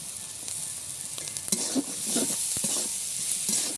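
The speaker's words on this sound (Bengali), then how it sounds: "গাজর ক্যাপসিকাম ভালো করে ভাজা হয়ে গেছে এবার দিয়ে দেবো সেদ্ধ করে রাখা আলু" Carrot, capsicum and boiled potato fry in a pan with a soft, steady sizzle, broken by irregular stirring scrapes and light knocks of a utensil against the pan.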